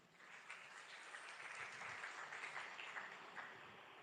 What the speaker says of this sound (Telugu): పెద్ద గురువు ప్రకాష్ గారికి ఒకసారి క్లాప్స్ కొడదాం